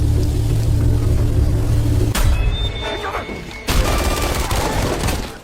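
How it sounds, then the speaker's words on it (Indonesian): Rapid gunfire in a film battle scene, with heavy low rumbling blasts giving way to bursts of sharp cracking shots and debris, loud and dense throughout. "Melihat yang lain sedang sibuk menembaki musuh, Carla"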